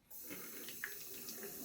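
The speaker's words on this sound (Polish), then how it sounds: "Będę spłukiwał, chociaż mam gąbkę, ale ta kamisori nie ma owinięcia, więc bez problemu." A large Japanese kamisori straight razor, without a wrapping, is rinsed under a running tap, with a steady close stream of water splashing continuously and briefly changing as the blade moves through it.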